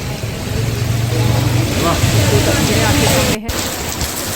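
Heavy rain falling on waterlogged city streets, a dense steady hiss of rain with passing traffic rumbling through standing water, a brief dropout near the end.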